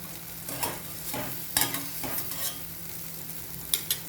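Masala paste frying in a pan, a close, soft sizzle with a few scraping stir strokes and light clinks of a spoon against metal, steady and without speech.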